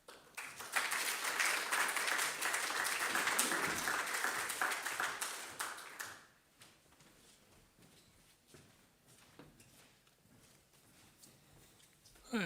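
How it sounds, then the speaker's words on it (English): A conference audience at a one-day sustainability event at Wolfson applauds loudly and steadily for about six seconds, then the clapping thins to a few scattered claps and quiet room noise. "would we have a lovely round of applause"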